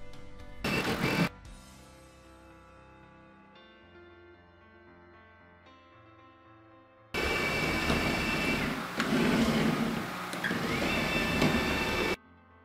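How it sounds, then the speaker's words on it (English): A Proscenic M7 Pro robot vacuum shuffles in mopping mode: a short loud whir, a quieter tonal motor hum, then a long loud steady rushing drone that shifts in pitch as the machine wiggles about. "when you hit the mopping mode on the remote control, what it does is it does this little jig"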